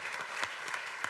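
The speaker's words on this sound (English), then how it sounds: "An applause, please." An audience applauds a speaker at a life science policy event, a brief, even wash of clapping from a crowd, moderately distant.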